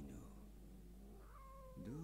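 A cat in the video game Murdered: Soul Suspect gives a few short meows in quick succession, fairly close and clear against a quiet game background, with no voices.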